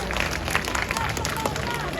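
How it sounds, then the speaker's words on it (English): Live audience at a Deadpool storytelling show applauding, scattered claps and murmuring crowd noise filling a short stretch at moderate level, without distinct speech. "you guys can clap if you'd like"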